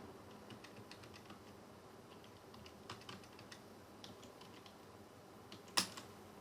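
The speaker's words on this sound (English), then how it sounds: "So again I'm going to type this command if down, and I'm going to type ETH0." Keys tapped on a computer keyboard as network commands are entered, a quiet, uneven series of light clicks with one sharper, louder keystroke near the end.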